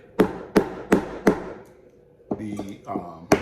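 A small hammer lightly tapping tabs of a clear acrylic stand into their holes: four sharp, evenly spaced knocks, a short pause, then a few lighter clicks and one more tap.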